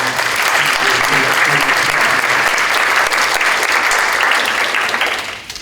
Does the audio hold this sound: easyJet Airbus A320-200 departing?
no